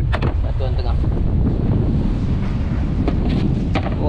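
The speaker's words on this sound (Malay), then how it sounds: "Wah, angin kuat lagi ya." Strong wind at sea buffets the microphone aboard a light-jigging fishing boat near Batu Puteh, a loud, continuous rumbling roar with gusty swells throughout.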